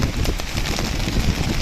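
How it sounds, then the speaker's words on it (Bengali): Heavy rain pounding down ahead of a moving bus, a dense, steady broadband roar with no breaks across the short stretch, loud and close. "সামনে প্রচুর জোরে বৃষ্টি হচ্ছে"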